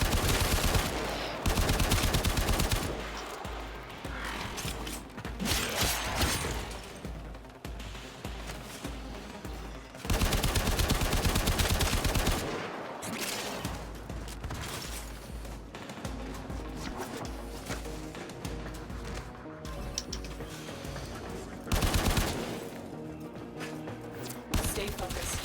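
Warframe gameplay gunfire comes in long rapid automatic bursts separated by brief pauses and quieter battle noise, loud and dense across the stretch.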